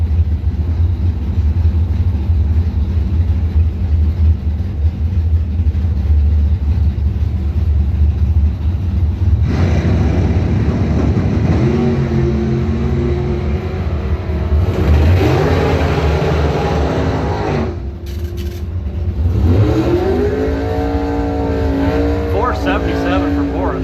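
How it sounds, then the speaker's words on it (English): Rear-engine dragsters at a drag race strip, engines roaring loud and continuous with rising revs and squealing bursts toward the end, heard from nearby along with a public-address announcer talking over them. "Tom Clark pairing up the rear engine dragsters here."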